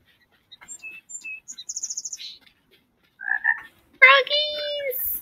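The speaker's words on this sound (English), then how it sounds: "Froggies!" A couple of short froggy croaks from the video game Spirittea, mixed in among bright chirps and tweets and game jingles, with gaps of quiet between the bursts.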